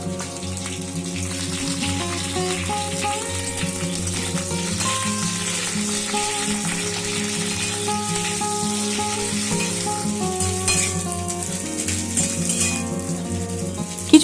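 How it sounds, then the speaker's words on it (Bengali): Flat beans frying in hot mustard oil tempered with black cumin and slit green chillies, a steady dense sizzle running unbroken throughout, with steady background music layered over it. "1 মিনিট ভাজার পর এতে দিয়ে দেব কেটে ধুয়ে রাখা শিমগুলো।"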